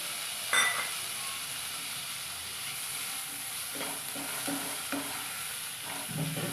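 Chopped tomatoes and leftover rice frying in a pan, a soft continuous sizzle with a few stirring scrapes and light clinks of a spatula, fairly quiet and without talk.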